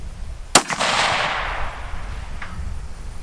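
A single sharp, loud rifle shot fired from a gun rested on an Armageddon Gear Gamechanger shooting bag, followed by a rolling echo that fades out, with a faint distant return a couple of seconds later.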